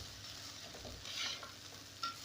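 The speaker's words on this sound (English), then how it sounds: "So lazima hapa you stir until the spices blend in. So I'm going to toast this for about a minute or so." Beef pilau spices being stirred and toasted in a pot, a soft steady sizzle with a few quiet scraping strokes and one brief clink near the end, no one speaking.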